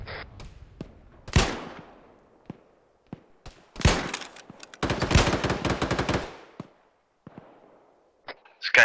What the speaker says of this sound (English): Yeah, those are close shots.